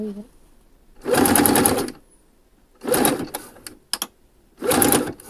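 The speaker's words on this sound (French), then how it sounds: "je fais un petit point arrière sans grande conviction" Sewing machine stitching elastic onto a swimsuit, running in three loud bursts of rapid stitching separated by brief pauses, the final burst a short back-stitch.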